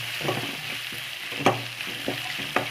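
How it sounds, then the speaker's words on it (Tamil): Onions and spinach being sautéed in a pan for an egg and greens stir-fry crackle with a steady sizzle, broken by a few sharp scrapes and stirring knocks close by. "நல்லா வதக்கி விடுங்க"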